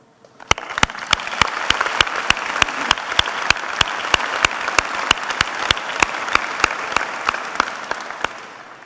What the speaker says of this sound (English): give a round of applause to every individual who has contributed to the success that we've accomplished